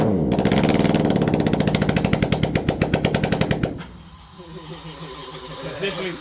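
A Hayabusa motorcycle engine swapped into a Corolla revs hard with rapid machine-gun-like popping and crackling for nearly four seconds, then drops to a rough, burbling idle as people talk nearby.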